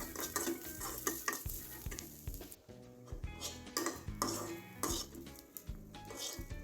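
Green chilies fry in a kadhai with steady sizzling while a utensil stirs and scrapes against the metal in repeated clinking strokes, close and without talk.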